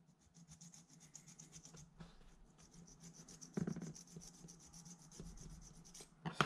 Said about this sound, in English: let's take a file to the base of the feet